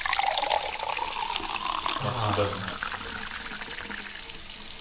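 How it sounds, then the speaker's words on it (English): Tap water runs from a kitchen faucet as a steady, faint hiss and splash with a short fuller gush partway through, while someone speaks softly over it. "Fresh tap water."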